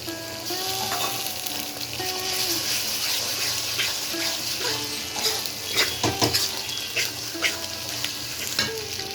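Ginger paste frying in a pan, a close, steady sizzle broken by stirring scrapes and clinks that grow busier toward the end, with no talk.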